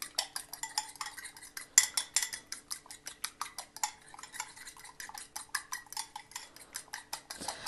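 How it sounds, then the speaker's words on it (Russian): Rapid, steady clinking of a fork whisking egg in a bowl, close up with a brisk irregular rhythm and no talking. "Взбиваем вилочкой."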